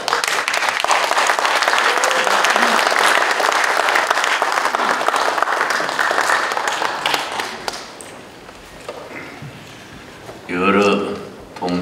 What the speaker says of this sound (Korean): 나오실 때 우리 박수로 환영하시겠습니다.